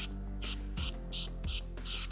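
Adhesive is sprayed onto a pool table's playing deck while it is being covered with cloth, in five sharp hissing bursts spaced regularly about every third of a second, loud and close, with no talking.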